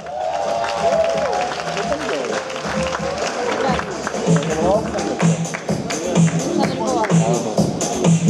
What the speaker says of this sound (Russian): Ваши аплодисменты, это финал